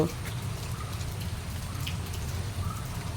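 Steady rain patters continuously with a dense low rumble and scattered drip-like ticks, no talking, holding even throughout.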